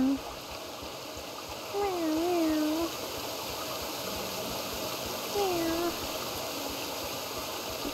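Two drawn-out cat meows in the Hokko Life video game, one longer and one shorter, rise above a soft, steady trickling stream ambience.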